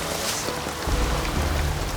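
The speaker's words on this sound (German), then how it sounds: "Ja, aber da regnet es ja auch." Heavy rain falling outdoors on a survival show location, a dense, continuous hiss of drops hitting surfaces, loud and close throughout with no voices.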